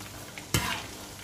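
Peanuts are stirred and fried in a pan, with a low steady sizzle broken by one sharp scrape or toss of the nuts near the middle.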